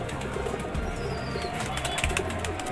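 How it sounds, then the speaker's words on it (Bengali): A Siraji pigeon coos faintly and low among birds in a loft, with steady background noise and some flutter, and no voices. "আর এই পাশে একটা সিরাজি কবুতর আছে দেখতে পারতেছেন"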